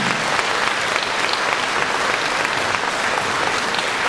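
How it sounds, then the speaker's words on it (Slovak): A concert audience in a Topoľčany cultural hall breaks into sustained applause, a dense, even wash of many hands clapping at full strength from start to finish. "Milé dámy, vážení páni, velikánsky potlesk pre vás."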